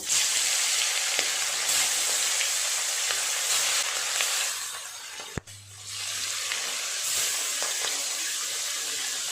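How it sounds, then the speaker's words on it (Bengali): Steady, loud sizzling and crackling of parshe fish frying in hot oil, continuous throughout with a brief dip and clatter near the middle. "তেল খুব ভালোভাবে গরম হয়ে গেছে, মাছগুলো ভেজে নেব।"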